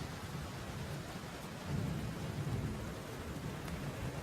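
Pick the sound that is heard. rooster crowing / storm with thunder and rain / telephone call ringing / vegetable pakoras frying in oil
storm with thunder and rain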